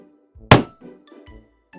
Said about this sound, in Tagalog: Uy, K9, basketball pala nilalaro mo